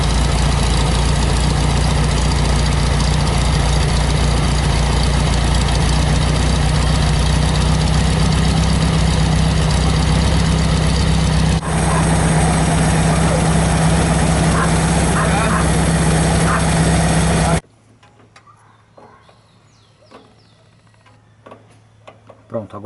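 A VW Beetle (Fusca) engine with twin carburetors idles loudly and steadily up close with a constant low drone, then cuts off abruptly, leaving near silence with a few faint knocks.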